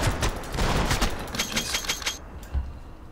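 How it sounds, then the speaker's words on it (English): Rapid bursts of gunfire from the video game Max Payne 3, a loud, dense volley of overlapping shots that stops abruptly, leaving a single low thud after a short gap. "Please, Max, keep shooting."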